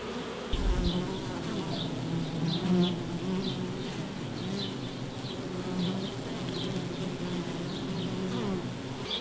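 Honey bees buzz in a dense, steady drone close by at a nucleus colony's frames, with individual insects whining past repeatedly over the constant hum.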